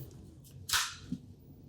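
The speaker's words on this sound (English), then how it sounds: "I'm gonna do a quick test by sliding in a mag." A magazine slides into a DIY Nerf blaster pistol, producing a quiet, close scrape followed by one sharp click as it seats, then a softer tap.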